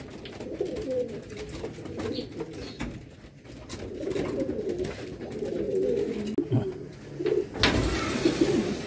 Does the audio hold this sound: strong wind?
no